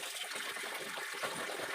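Water pours steadily from a household tap, a continuous soft splashing rush at low level with slight surges, with no voices.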